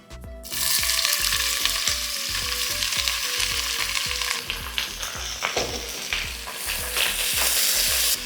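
About 500 grams of sliced large onions hit hot oil for an Andhra chilli chicken gravy, bursting into a loud, dense sizzle that holds steady with stirring scrapes, over a soft musical bass pulse.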